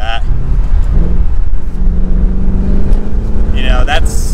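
A new Ford Mustang GT Premium convertible with a manual gearbox accelerates, its engine and exhaust rising in a low droning pull heard from the cabin, with someone talking briefly at the start and end.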